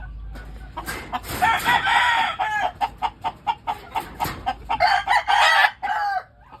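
Backyard chickens with a rooster crowing loudly and close, followed by a run of short clucks and squawks, rhythmic bursts with no speech.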